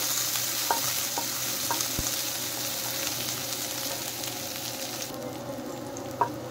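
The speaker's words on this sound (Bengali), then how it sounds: "পেঁয়াজ একটু হালকা ভেজে নেব।" Onions sizzle steadily in hot oil, a constant crackling hiss broken by a few sharp clicks of a utensil stirring the pan.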